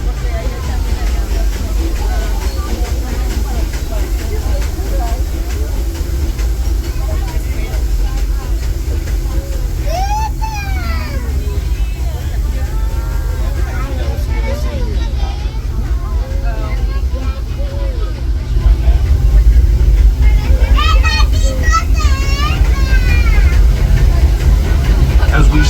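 A Disneyland Railroad steam train, Ernest S. Marsh, rumbles and clatters steadily along, a constant low mechanical drone with rattling, while a crowd chatters and a voice speaks over it.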